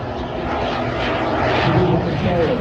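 A turbine-powered aircraft performing at an air show produces a loud, continuous jet roar that swells slightly midway, with a commentator's voice running underneath.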